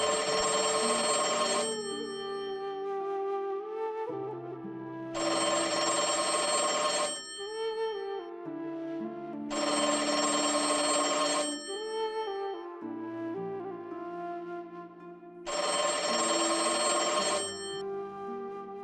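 A telephone rings in repeated bursts, four clear electronic ring cycles with short pauses between them, loud and close with no talking over it.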